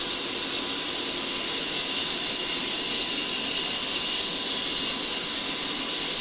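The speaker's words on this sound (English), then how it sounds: "As the engine spools up" Twin turbofan engines of an A-10C spool up during startup in the DCS flight simulator, a loud, steady roar of hiss and high whine that holds constant throughout with no voices.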